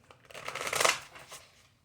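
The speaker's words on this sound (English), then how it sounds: "One more shuffle" A deck of tarot cards riffled and shuffled in one continuous flurry of crisp papery flicks, building to a dense peak near the middle and then tapering off, close and fairly quiet.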